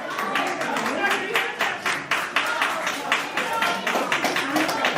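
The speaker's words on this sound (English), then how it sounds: "No, don't clap for that." An audience at a contentious village meeting breaks into scattered, uneven clapping with distinct individual claps, mixed with voices and crowd chatter.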